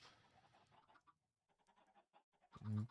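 Chickens cluck and squawk in a chicken cooker in a video game, faint scattered clucks through the clip and then one loud, close squawk near the end.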